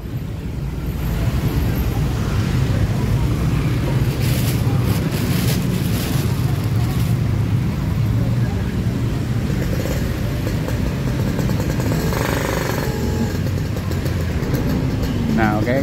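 A vehicle drives along Jalan Kepatihan, a shopping street in Bandung, in the afternoon: a steady, loud rumble of road and engine noise with wind buffeting the microphone, lasting throughout, while voices come and go in the background.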